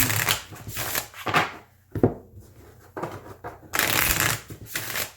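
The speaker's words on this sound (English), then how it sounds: "So this is how I usually end up shuffling this deck." A large tarot deck is riffled and shuffled in several quick bursts, close and crisp, with short pauses between handfuls.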